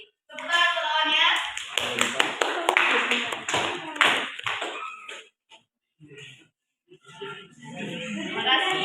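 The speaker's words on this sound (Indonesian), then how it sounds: "Tepuk tangan untuk lawannya" A burst of clapping from a small group in a fruit-carving class for a few seconds, fading out, with a few scattered claps and talk afterward.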